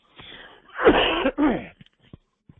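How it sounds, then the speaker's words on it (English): One person coughs harshly up close, a couple of raspy bursts, followed by a few small clicks and breaths. "I'm so sorry for the cough."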